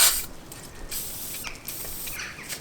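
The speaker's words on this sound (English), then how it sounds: "give it a bit of a spray" Several short hissing bursts of an aerosol spray can onto bolts during front strut removal on a Peugeot/Citroen/Fiat van, quick puffs separated by brief pauses, close by with no talking.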